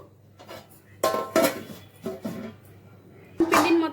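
Dough being scooped from one pot into another, with several sharp metallic clanks and scrapes of utensil against vessel, close and uneven, amid quiet background.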